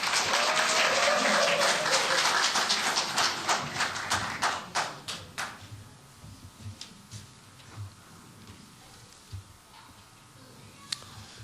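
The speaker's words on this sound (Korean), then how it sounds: "여러분 힘찬 격려의 박수로 맞아주시기 바랍니다" Crowd applause at a Jeju campaign rally for party candidates, starting as dense clapping, then thinning into scattered, separate claps that trail off, with one sharp clap near the end.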